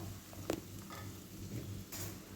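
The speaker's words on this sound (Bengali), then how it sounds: "তারপরে এর মধ্যে দিয়ে দেব পেঁয়াজ আর আদা বাটাটা এটাকেও তিন থেকে চার মিনিটের মতো হাই ফ্লেমে ভেজে নেব" Onion and ginger paste fries on a high flame, giving a soft, steady sizzle that is joined by a couple of brief stirring scrapes against the pan.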